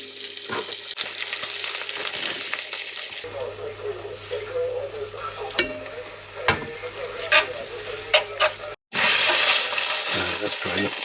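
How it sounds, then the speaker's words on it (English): Food sizzles and fries in a pan on a stove, a steady crackling hiss with a low radio hum underneath, interrupted by a brief stir and then a louder burst of sizzling as more is added. "That's frying up nicely."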